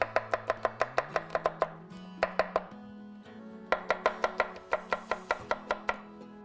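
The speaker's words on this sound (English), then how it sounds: "I'm just gonna slice this garlic while our ghee is getting hot." A knife slices garlic cloves on a cutting board for a tikka sauce, making quick, evenly spaced crisp chops in bursts with short pauses, close and clear, over a steady low hum from the stove.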